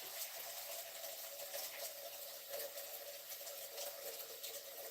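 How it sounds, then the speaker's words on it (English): Tap water gushing steadily into a crock pot for soup, a continuous moderately close hiss and splash with no voices. "I'm just going to get some water going in the crock pot here"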